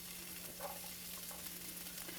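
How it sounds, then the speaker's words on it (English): A soft, steady sizzle of garlic frying in a hot pan, faint and continuous, with a low hum underneath and no talking. "A little bit of a sizzle."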